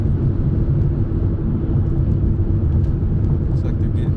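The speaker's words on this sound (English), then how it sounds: "Trucks in the fast lane." Heavy trucks roll past on a highway in a steady, loud low rumble of tires and engines, with no break in the traffic noise.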